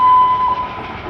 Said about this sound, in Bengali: টয় ট্রেনটা যাচ্ছে দেখতে পাচ্ছ